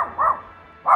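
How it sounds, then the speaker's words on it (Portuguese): Dogs at a home gate barking in short loud bursts, one at the start, another near the middle and a third at the end, with quiet gaps between. "Infelizmente latindo os cachorros aqui de casa."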